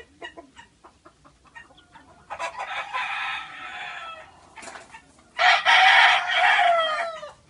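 Two loud crows from a speckled fighting rooster close by at a gamecock breeding farm, each a long drawn-out call, separated by quiet clucking and scratching sounds.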